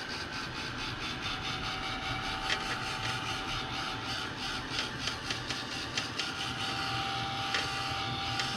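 A small electric heat blower runs continuously with a steady whirring drone while drying a handmade crafting card, with light tapping and rustling handling sounds layered over it and no speech.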